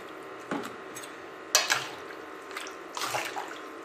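Six percent vinegar splashes and trickles over fish being marinated, in a few soft separate pours and drips with kitchen clatter, quiet and close.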